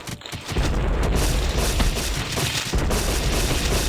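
Heavy cannon fire booms in an Epic War 2 battle, with dense, continuous blasts and rumbling explosions rolling loudly across the whole stretch.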